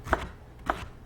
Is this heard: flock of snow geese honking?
no